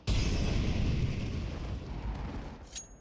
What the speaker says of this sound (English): Flashbang blooming.